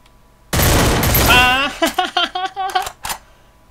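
Gunfire in the video game Garena Free Fire, a sudden loud burst of rapid shots lasting about a second, followed by a voice and a few sharp clipped sounds before it cuts to near silence.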